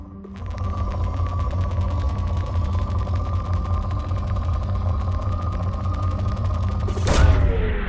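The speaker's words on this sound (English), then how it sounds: "Launching probe." A probe launching in Mass Effect 2 gives a loud, steady mechanical whir with a fast ratcheting tick lasting several seconds, ending in a sharp burst.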